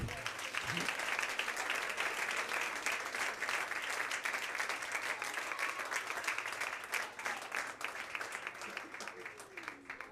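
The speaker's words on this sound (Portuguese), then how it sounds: "Aplauda ao Senhor." A church congregation at a worship service claps steadily throughout, a dense, sustained round of applause with faint voices mixed in.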